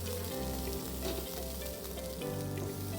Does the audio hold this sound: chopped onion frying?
yes